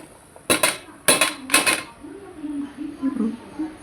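Fried paneer pieces drop into a pan with three sharp metallic clatters, followed by quieter scraping and stirring against the cookware.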